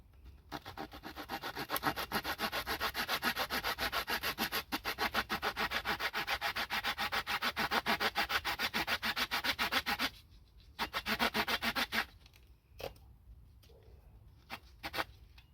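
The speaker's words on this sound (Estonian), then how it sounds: "See vist on mingi imelik väike saag." A small hand saw rasps through wood in quick, steady back-and-forth strokes, close up, pausing briefly before a few final strokes.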